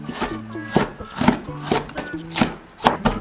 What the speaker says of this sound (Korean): 이렇게 다져줄게요.